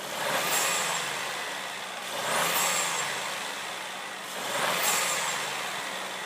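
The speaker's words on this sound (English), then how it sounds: "there is some cool turbo sounds you can hear in it." Honda Civic 1.0 litre VTEC turbo engine giving three evenly spaced bursts of turbo whoosh and rising whistle over a steady engine drone, moderately loud and without talking.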